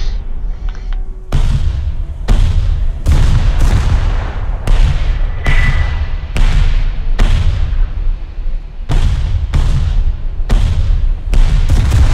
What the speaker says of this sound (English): Have you fired the big main cannons? No, I'm gonna shoot those next.